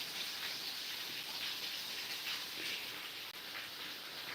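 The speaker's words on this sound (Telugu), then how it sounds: "వర్షం మామూలుగా లేదు బాబోయ్, ఫుల్గా ఉంది వర్షం" Heavy rain pours down in a dense, steady hiss that holds at an even loudness for the whole stretch, with no voices over it.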